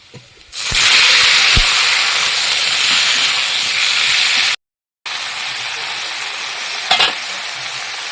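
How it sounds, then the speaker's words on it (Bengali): Loud, steady sizzling as flat beans hit hot oil with fried onions, a sharp burst at the start, then continuous frying with a brief silent gap and a few clinks. "এবার ছিমটা ছেড়ে দেবো"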